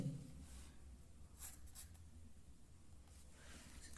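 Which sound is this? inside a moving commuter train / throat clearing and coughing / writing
writing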